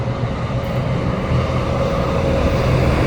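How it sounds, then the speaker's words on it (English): A train rumbles past close by at the Marshall Avenue rail crossing, a loud, steady low roar with faint rattling and a sustained tonal hum, no voices. "And it looks like there is going to be a train."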